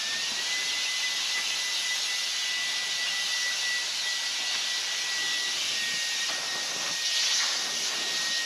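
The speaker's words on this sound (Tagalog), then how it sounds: "Goods din tong blower na to, no?" A blower roars continuously and up close, a loud, steady airy rush with a thin high whine running through it and no pauses.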